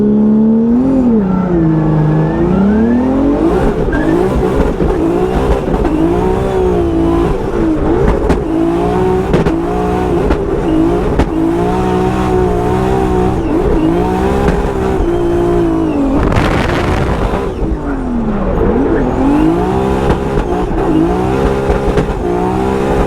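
A 2JZ-engined BMW E36 drift car at a Formula Drift event at Irwindale holds a loud, continuous engine howl, its pitch rising and falling through revs with a brief burst of tire noise.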